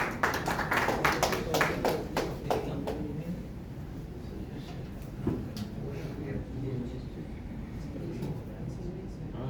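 Audience at an Urdu literary evening in Doha clapping to welcome a poet: a short burst of sharp claps at the start that thins out, leaving quiet hall ambience with faint stirring.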